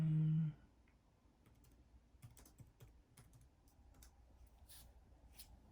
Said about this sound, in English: But if I could actually type,